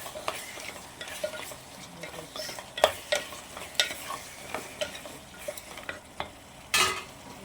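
Dried fish being sautéed in a pan for curry, a soft sizzle under irregular scraping and stirring clicks of a utensil against the pan, with a few sharper knocks near the end, fairly quiet and close.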